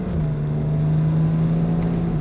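A car engine held at about half throttle while driving, a loud, steady low drone with a constant hum close by, no talk.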